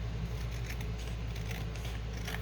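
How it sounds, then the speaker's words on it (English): Quiet snipping of scissors cutting material, a few soft close-up strokes over a low background hum. "it's about time for me to get some new scissors"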